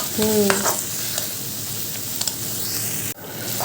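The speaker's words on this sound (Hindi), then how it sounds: "बस अच्छे से इसको फ्राई करना है फ्रेंड्स।" Masala with onion and tomato fries in a pan, giving a loud steady sizzle with stirring scrapes and brief clinks, a short squeak near the start and a sudden drop in the sizzle near the end.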